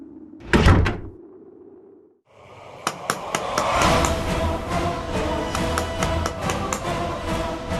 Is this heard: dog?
no